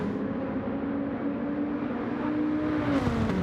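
Race cars lapping the Willow Springs circuit in a racing video game, a steady engine drone holding a sustained pitch throughout, with a brief rising whir near the end and no talking.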